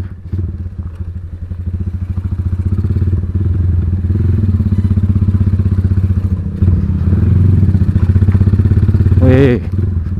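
A modified Honda Tiger motorcycle engine runs with a steady loud rumble close by for about nine seconds, rising slightly, then cuts off abruptly near the end. Wind buffeting and muffled voices sit under it.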